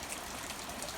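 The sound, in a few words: rain falling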